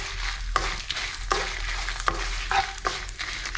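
Chillies fry in a pan for a sweet potato and peanut chutney, with a steady close sizzle broken by several stirring scrapes and knocks at irregular intervals and no voices.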